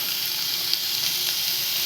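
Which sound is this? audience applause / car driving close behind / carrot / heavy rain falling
carrot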